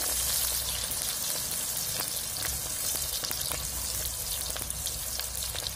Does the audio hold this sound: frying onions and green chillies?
yes